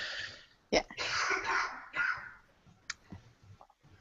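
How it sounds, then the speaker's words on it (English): A person coughs on a call, one sharp close cough followed by rough throaty bursts and throat clearing, then a few scattered clicks and quieter sounds. "this cough right now. It's bad. It's loud. It's very loud."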